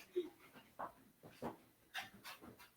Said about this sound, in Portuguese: eu tenho uma cadela e ela precisa ir no pátio